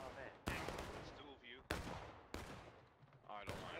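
Musket volleys in War of Rights, a Civil War era battle at Bolivar Heights camp: four loud cracks with rumbling tails, spaced a second or so apart, mixed with shouting voices in between.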